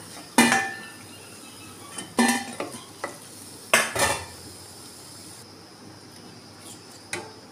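Ripe mango malpua frying in oil over low to medium heat, a faint, soft sizzle running under several sharp clanks and scrapes of a utensil against the pan.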